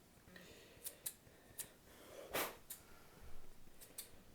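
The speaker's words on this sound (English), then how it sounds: "then you just trim off the hairs that stick down on the bottom" Scissors trim loose fibres from a cone-shaped model tree for Z, N or HO scale railways. About eight quiet, sharp snips come at uneven intervals against a near-silent background.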